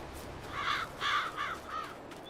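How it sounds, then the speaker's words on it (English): Crows caw in the video game Farming Simulator 22, sounding as four harsh calls in an uneven sequence that start loud, then fade, over a quiet background with no talking. "Bloody crows."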